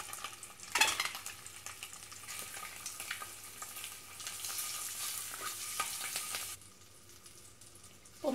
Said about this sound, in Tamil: இந்த முட்டையை சேர்த்து ஒரு 2 மினிட்ஸ் ஃப்ரை பண்ணி எடுத்துக்கலாம்